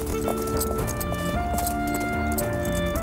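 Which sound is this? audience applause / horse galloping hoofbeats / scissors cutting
horse galloping hoofbeats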